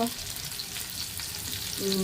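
Potato pieces frying in hot oil in a pan for a bhetki fish curry, a soft continuous sizzle with faint stirring scrapes, no talking.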